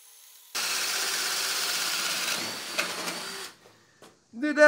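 A Bauer 20V right angle drill on its lowest speed boring a 1-inch bit into wood, a steady loud whir for about three seconds that bogs slightly near the end, then stops and a voice starts.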